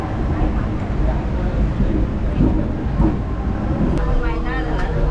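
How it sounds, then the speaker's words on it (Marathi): A passenger train rumbles steadily after pulling out of Panvel station, a loud continuous interior drone with a few brief knocks, while people chat nearby. "सो फायनली ट्रेनमध्ये आलो आहे आणि ट्रेन आता सुरू झालेली आहे"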